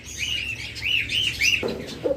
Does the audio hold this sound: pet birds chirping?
yes